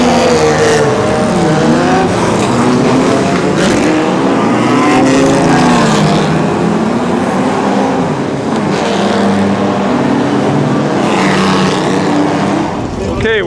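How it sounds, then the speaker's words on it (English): Historic racing cars including Jaguars, a Frazer Nash, an Allard and a BMW at the Monaco historic meeting, engines roaring steadily and loudly throughout with passing surges, while a voice talks over the din. "Fraser Nash, these are Jaguars. Fraser Nash, Allard, BMW, and others."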